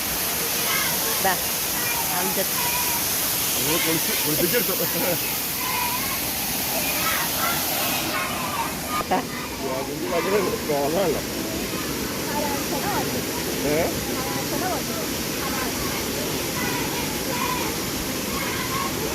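Rushing water of Poolakkapoyil waterfall at Odayikkal, Mampad, a steady broad roar filling the whole stretch, with voices of people talking and children nearby over it.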